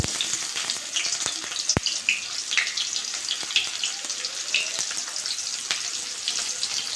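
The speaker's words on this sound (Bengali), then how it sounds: "তেলটা গরম হয়ে গেছে আমি পেঁয়াজ দিয়ে দেবো" Chopped onion sizzles and fries in hot white oil in a wok, with a steady crackling hiss broken by sharp pops and stirring clicks, close and with no one talking.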